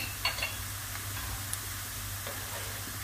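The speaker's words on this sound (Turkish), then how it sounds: "Onu da birkaç kez çevirerek kavuruyoruz" Onion and garlic sizzle and crackle steadily in hot oil, with a few light stirring clicks near the start and no voices.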